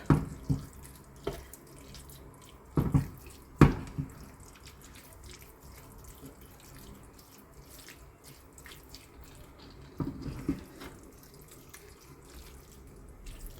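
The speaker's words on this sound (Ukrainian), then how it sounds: "Добавляю ще трішки води, щоб могло гарненько все протушитися" Water poured into a pot of Ukrainian red borscht as it cooks, with a few splashing bursts and trickles between quiet stretches of kitchen ambience and faint clinks.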